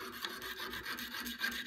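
A jeweler's saw cuts through a sterling silver pendant in quick, rhythmic rasping strokes, close and fairly quiet, with no voices.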